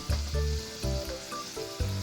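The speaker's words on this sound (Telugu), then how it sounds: "వెల్లిపాయలు ఇలా కొంచెం ఫ్రై అవుతున్నప్పుడే ఎండుమిరపకాయలు వేసుకుందాం" Garlic and dried chillies sizzle and crackle in hot oil with asafoetida, a tempering for tomato radish rasam, with intermittent clinks and scraping of a spoon against the pan.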